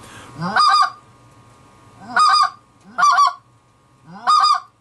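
Four loud, nasal goose honks from a blown goose call, each a short two-part burst with a rising squawk, spaced irregularly and close up.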